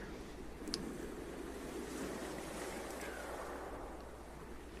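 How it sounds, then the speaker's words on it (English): Crashing waves echo inside a sea cave, a steady, full roar of surf that washes on without pause and with no voices over it. "The noise of crashing waves echoes here."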